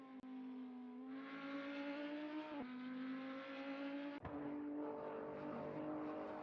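A GT3 race car on a qualifying lap, its engine droning loud and close at a high steady pitch through several gear changes, with a brief lift and a sharp dip before it climbs again.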